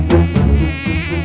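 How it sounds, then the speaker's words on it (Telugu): Flies buzzing close by in a comedy film scene, a continuous droning buzz with a wavering pitch and no talking. "ఈగలు"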